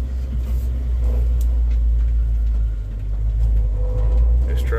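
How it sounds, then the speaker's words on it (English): A pickup truck in four-wheel drive turns on muddy ground, its engine giving a loud, steady low rumble close by, with slight swells in effort and no speech. "This truck does not like turning four-wheel drive at all."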